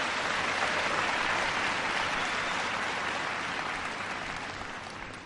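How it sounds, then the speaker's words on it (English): A large crowd in Kenya applauds Barack Obama, a thick, continuous roar of many hands clapping that holds steady and then slowly fades near the end. "So that one, he deserves a clap for, a big clap"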